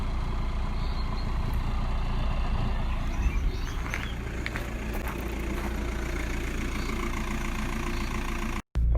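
A VW Passat B5.5 engine idles smoothly and steadily at close range, holding an even, continuous hum throughout, with a momentary dropout just before the end.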